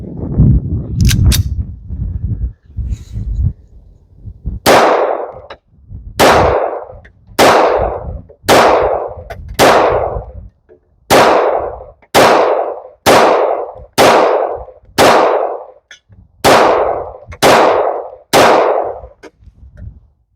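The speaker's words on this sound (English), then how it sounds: "Today we're shooting Sierra Sportmaster 90 grain jacketed hollow points." Concealed carry pistol firing Sierra Sportmaster 90 grain jacketed hollow points: about thirteen loud, sharp shots spaced roughly a second apart, each with a brief ringing decay, after some earlier handling clatter.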